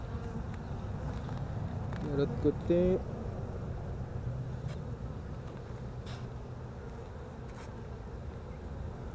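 Honeybees hum in a continuous, close drone during a spring hive inspection as frames with pollen and bee bread are handled, with people talking briefly in the clip.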